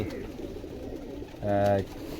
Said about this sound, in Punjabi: ਬਹੁਤ ਹੀ ਨਿਆਬ ਕਬੂਤਰ ਆ